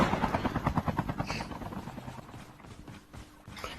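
A helicopter's rotor in mobile Call of Duty thumps rapidly and loudly at first, then fades into a softer engine drone, with game-like noise around it.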